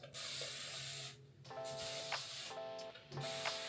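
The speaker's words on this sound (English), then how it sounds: "So what I do is I spray it. I spray the knot." A pump spray bottle hisses in three short, close bursts onto a knot of crochet hair, with brief pauses between them.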